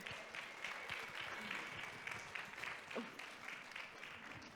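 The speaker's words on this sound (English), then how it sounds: "Give them a round of applause." Faint audience applause at a panel event on land, history and culture, a steady patter of hands clapping from a room of people with light crowd noise.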